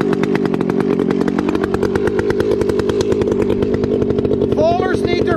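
Husqvarna 359 chainsaw engine running loud and close with a steady rapid buzzing rhythm that carries across the whole stretch, a brief higher whine near the end.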